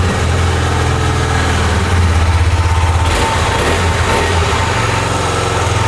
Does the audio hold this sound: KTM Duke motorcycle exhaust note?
yes